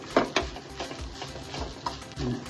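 Grated coconut roasting in a pan toward golden brown for an egg curry, stirred with repeated scraping strokes over a low, steady sizzle, close and uneven in rhythm, with no voices.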